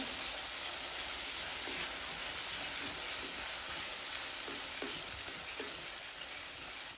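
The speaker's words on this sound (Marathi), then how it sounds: "आपण वाटण बनवलेलं टाकून घेणार आहे तेलामध्ये। वाटण तेलामध्ये मिक्स करून घेऊ।" Ground spice paste fries in oil over a wood-fired clay stove for a village-style shev bhaji, a soft steady hiss with a few faint scrapes of stirring, heard at a distance and quiet.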